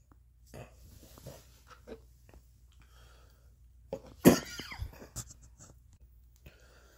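A single sharp, loud cough breaks an otherwise quiet stretch, with faint rustling and breathing around it.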